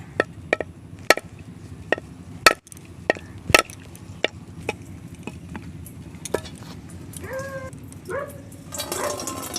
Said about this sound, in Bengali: দা দিয়ে এই নারকেলটা কেটে নিচ্ছি